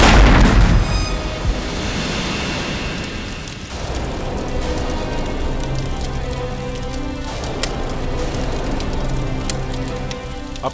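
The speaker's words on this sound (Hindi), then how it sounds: "अपना ही घर बॉम्ब से उड़ा लिया।" A bomb blows up a house in a crime drama scene: a loud blast bursts at the start, followed by a long rumbling roar with crackling, debris-like noise.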